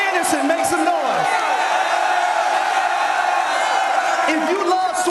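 A college football crowd at an Alabama vs LSU rivalry show roars with sustained cheering, whoops and shouts, loud and continuous throughout.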